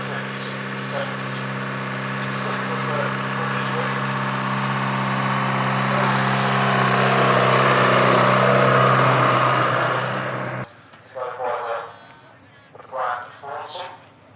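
A Fordson WOT6 military truck engine runs with a steady, deep idling rumble that swells slightly before cutting off abruptly, followed by someone speaking nearby.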